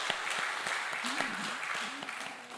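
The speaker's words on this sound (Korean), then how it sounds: "우리 박수로 서로 환영하시겠습니다." Sunday church congregation clapping to welcome a visiting family: close, steady applause throughout, with a voice talking faintly underneath partway through.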